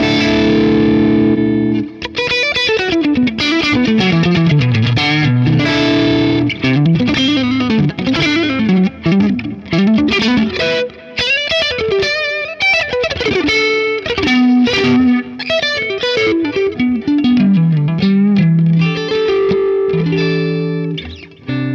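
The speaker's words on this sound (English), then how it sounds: "you can hear the AC15 is more mid-focused, it's a little more saturated" A guitar through a Vox AC15 amp model plays a loud, continuous melodic line, mid-focused and saturated, with distorted tone and effects, heard alone with no talk.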